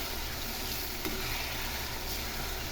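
Sundakkai (turkey berry) vathal sizzling steadily as it fries in a pan while being stirred, a continuous close, even crackle with no talking.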